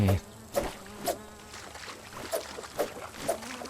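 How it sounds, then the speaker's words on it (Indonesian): Flies buzz steadily in the video game Grounded 2, a faint continuous insect drone with soft, regular thumping pulses about every half second throughout. "Banyak lalat, kita kayaknya punya misi lalat deh."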